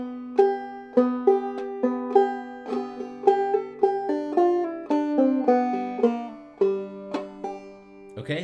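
Clawhammer banjo picks out the C part of the old-time tune Black Eyed Susie, each plucked note ringing bright and clear in a bouncy, steady rhythm and played solo.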